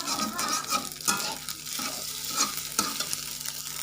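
Fried rice with egg and petai cina (white leadtree seeds) is stirred in a hot pan over a steady sizzle, with repeated scraping and clinking of the spatula up close.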